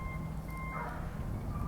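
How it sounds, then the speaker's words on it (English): Outdoors in the sun near a mural painting job, a truck's reversing alarm beeps faintly in the distance in steady pulses, with a dog bark briefly cutting in, over a low ambient rumble. "as a dog barks and a truck beeps"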